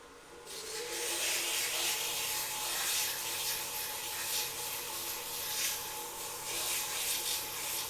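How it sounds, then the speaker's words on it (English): A finishing gouge cuts a small turned wooden top on the lathe, giving a steady, close, continuous scraping hiss that keeps up for several seconds with slight surges and no talking. "Take out my finishing gouge."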